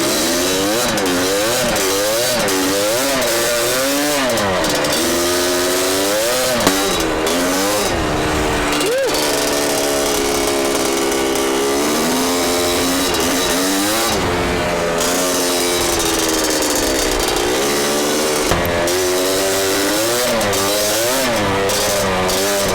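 A Yamaha Banshee two-stroke engine revs hard up close, its pitch sweeping up and down in repeated throttle blips and sustained high-rpm wails, loud and continuous throughout.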